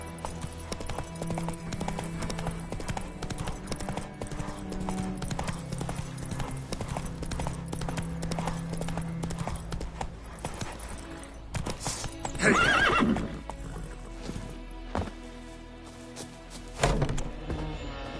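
Roach, a horse in the video game Witcher 3, gallops with rhythmic hoofbeats and lets out loud neighs, with a sharp whinny near the end over a steady game ambience.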